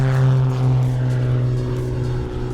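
A propeller race plane engine drones in flight at about 400 km/h, a strong, steady low-pitched hum with harmonics that holds loud and close for nearly three seconds.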